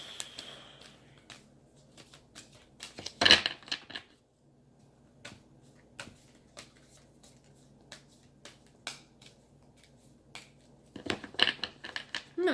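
Tarot cards shuffled by hand in a quiet room, a series of soft riffling bursts and taps spread across the stretch, with a louder flurry near the start and another toward the end.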